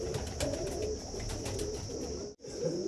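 Breeding pair of Punnu-bloodline pigeons cooing in low, throaty, repeated calls at close range, with a steady high hiss behind them and no voices.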